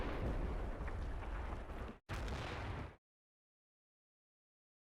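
Heavy guns and artillery fire in the Combat Mission: Battle for Normandy war game, a loud dense rumble of booming shots for about three seconds with a brief gap, then sudden silence.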